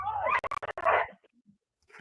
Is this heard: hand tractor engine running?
no